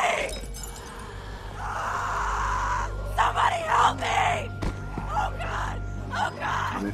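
A girl screams in distress in The Walking Dead video game, with sharp, repeated cries over low ambient rumble, and a brief crash or impact partway through.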